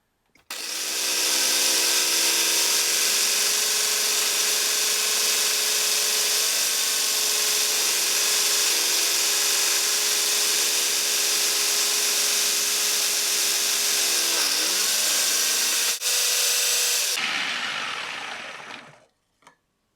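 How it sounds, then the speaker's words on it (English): A food processor shreds a block of cheese fed down the feeder tube with a pusher, running continuously with a loud, steady motor whir and grating hum that starts abruptly, holds for about seventeen seconds, then spins down and stops. "I'm going to press the control that runs it continuously because that's best for grating."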